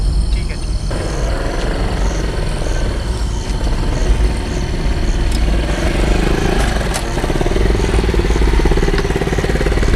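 A beat-up old motorcycle runs close by with a steady, loud mid-pitched engine drone and some rattling. People talk over it throughout.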